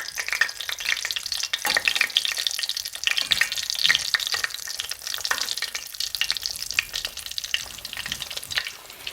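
Slices of green tomato fry in a shallow pan of hot oil, a busy crackling sizzle with popping spatters, steady and close, with no voices.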